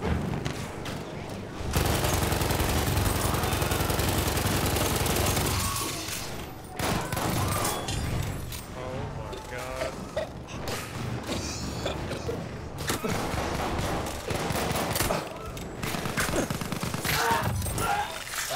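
Rapid machine gun bursts and gunfire from the video game Battlefield, loud and dense, with sustained firing early and then shorter bursts and crashes throughout.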